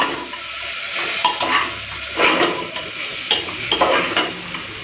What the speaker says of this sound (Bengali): চিকেনটাকে এখন হাই ফ্লেমে ভেজে নেব